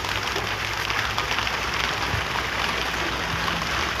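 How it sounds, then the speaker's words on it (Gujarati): Steady, dense rain pours down close by, a continuous broadband hiss of drops hitting surfaces that stays even throughout with no pauses. "ના બાબા વરસાદ ચાલુ છે"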